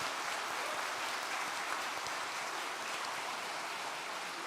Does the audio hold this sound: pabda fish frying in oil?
no